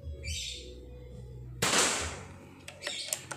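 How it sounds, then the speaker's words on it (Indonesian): A PCP air rifle fires a Hercules pellet at a target: a single sharp crack midway, followed by a few faint clicks and light impacts, with chirping-like high tones before it. "Berapa kali tembakan jedar jedar jedar jedar lubang terus bos"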